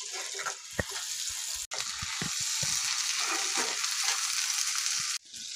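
Ginger and garlic hit hot oil in a pan with crab for a spicy crab kosha, giving a loud, steady close-up sizzle broken by a couple of brief dips and a few soft stirring knocks.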